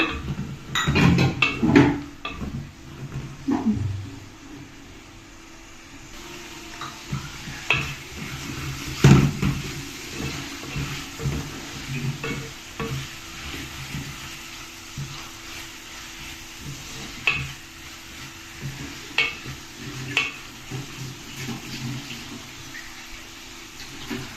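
Onion pieces fry in oil in a pan for an uppu chapa curry, a soft steady sizzle broken by scraping stirs and occasional clinks of a utensil against the pan, no talk.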